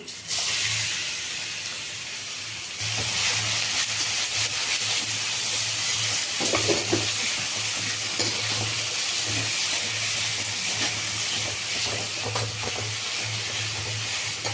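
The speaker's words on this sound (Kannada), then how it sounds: "ಇಲ್ಲಿ ಕಡಲೆಬೇಳೆ ಮತ್ತು ಕಡಲೆ ಬೀಜ ಫ್ರೈ ಆಗಿದೆ. ನಾನೀಗ ಮಾವಿನಕಾಯಿ ಹಾಕ್ಕೊಳ್ತಾ ಇದ್ದೀನಿ." Chana dal, peanuts and raw mango fry in a pan for mango chitranna, a constant loud sizzle and hiss up close, with occasional stirring scrapes underneath.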